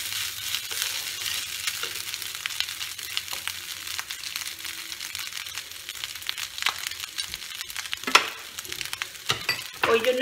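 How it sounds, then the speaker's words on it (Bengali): Cooked rice fries in oil for Bengali bhat bhaja, a close, continuous sizzle broken by stirring scrapes and occasional spoon clinks, with one sharper clatter toward the end and no talking. "ভাতগুলো কিন্তু আমি ভাজবো, ভাজতে গেলে একটু লাল লাল হবে"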